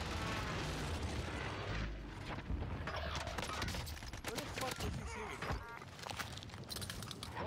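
Rapid bursts of gunfire from a first-person shooter game crackle continuously at close range, dense and loud throughout, with occasional booming impacts and a voice talking over the shooting.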